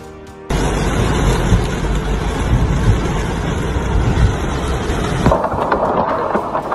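A heavy thunderstorm with pouring rain in Saudi Arabia, Makkah, sets in abruptly as a loud, dense roar of rain and rumbling, steady for several seconds before easing to a softer wash.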